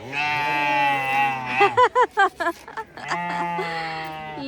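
Goats and sheep at the Berlin zoo give long, wavering bleats close by, with a rapid series of short, choppy bleats or calls in between.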